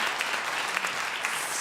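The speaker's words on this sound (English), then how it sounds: "You guys can give her a big round of applause." A room full of people claps in warm, dense applause, steady and sustained with no distinct voices.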